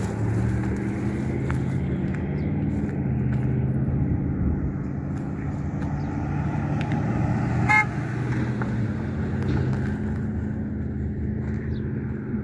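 A car idles and rumbles past on the streets of Picher, Oklahoma, an abandoned mining town. A steady engine drone holds throughout, with one short horn toot partway through and no talking.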